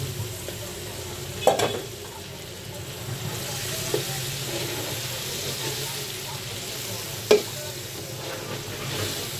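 Shoal fish and beans frying in a pan, stirred now and then, with a low steady sizzle and a few sharp scraping knocks from the spoon against the pan.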